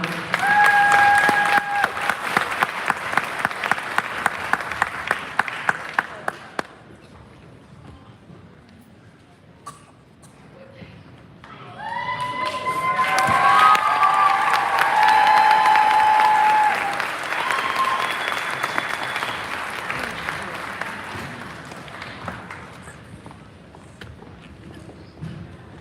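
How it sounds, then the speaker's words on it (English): Audience applause at a graduation celebration, loud clapping from a crowd that fades, then a second swell of cheering and clapping with whistles and shouts rising over it. "let's have another round of applause for"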